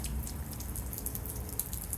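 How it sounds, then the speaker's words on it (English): Rain drips and patters outdoors at a park, a steady soft wash of scattered droplets over a low rumble, no voices. "it's this setting that I never really have where it's raining and I'm at the park"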